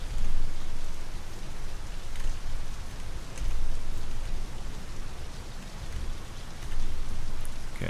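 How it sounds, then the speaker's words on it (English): Steady rainfall in the video game My Summer Car, a dense hiss of drops on surfaces with gentle swells in intensity, loud and continuous with no voices. "it's raining."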